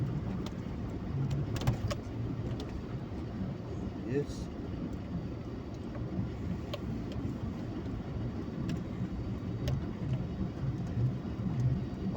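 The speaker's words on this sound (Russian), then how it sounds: "Машины ездят, значит можно." Cars drive over a winter road river crossing, a continuous low rumble of passing traffic with wind noise, and a voice speaks briefly near the start.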